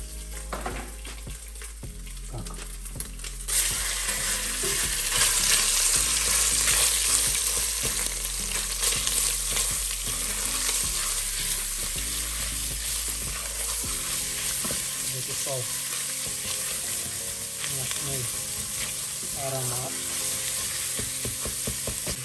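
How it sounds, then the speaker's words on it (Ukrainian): Minced meat frying in sunflower oil in a pot for a bolognese meat sauce, with a steady loud sizzle and occasional stirring scrapes throughout, no voices. "знову наливаємо соняшникову олію і пересипаємо сюди фарш"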